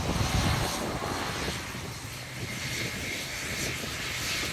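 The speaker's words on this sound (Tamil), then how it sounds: "அவர்கள் வரக்கூடிய அந்த விமானம் வந்து தற்பொழுது தரையிறங்கி இருக்கின்றது" Fixed-wing airplane landing at Palaly airport, a broad, steady engine roar heard from a distance, holding fairly even, with no speech.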